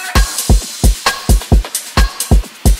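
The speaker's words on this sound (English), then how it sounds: "So together all the drums sound like this." A full electronic drum mix: punchy kick hits with snares, a busy top loop, crashes and downlifters, looping in a steady, loud groove.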